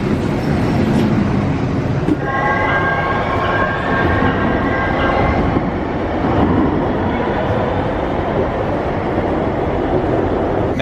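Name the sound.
Minneapolis light rail train running on track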